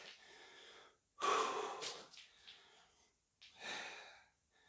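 Heavy, labored breathing from someone holding a plank during a home workout circuit, close to the mic: a few loud gasping exhales and sighs in separate bursts with short quiet gaps between them.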